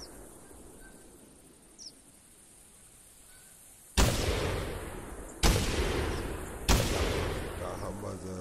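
Three loud shotgun blasts ring out at geese during a hunt in the video game The Hunter, spaced about a second and a half apart, each booming and then decaying after a quiet stretch of faint ambience.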